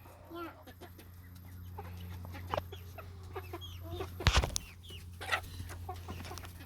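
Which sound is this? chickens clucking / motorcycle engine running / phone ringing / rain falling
chickens clucking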